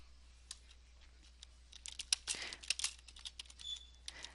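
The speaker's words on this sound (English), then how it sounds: "now I can type in my comment. I'm going to just type a quick comment." Quick comment being typed on a computer keyboard in Word 2013, with irregular bursts of soft, close key clicks that speed up into a denser flurry midway before thinning out.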